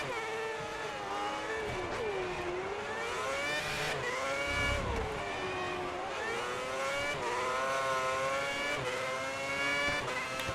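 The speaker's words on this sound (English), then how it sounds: "Engine noises really are weird in this game." An F1 race car engine in the F1 2010 video game, revving high and continuously with rising and falling pitch as it shifts gears, loud and close with no talk over it.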